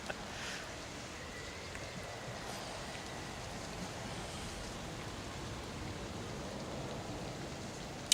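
Steady rain falls as an ambient backdrop during a tabletop role-playing game session, a continuous even hiss with no voices over it.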